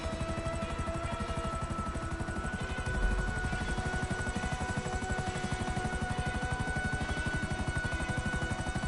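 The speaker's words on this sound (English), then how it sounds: "What's that last helicopter doing?" Helicopter flying in GTA Online, a steady pulsing rotor chop with engine whine that holds at an even level throughout and swells slightly near the three-second mark.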